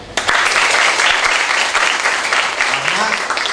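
Applause from a school audience of student council members at a national defense training session in Lamongan, a loud, dense wash of many hands clapping that continues steadily throughout, with a faint voice near the end.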